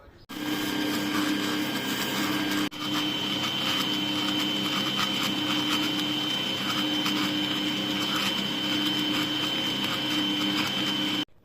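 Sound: electric mixer whipping egg whites with sugar

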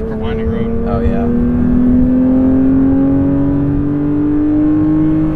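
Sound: 2022 Porsche 911 GT3 engine revving

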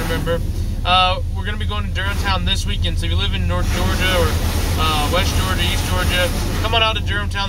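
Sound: automatic car wash running around a Jeep

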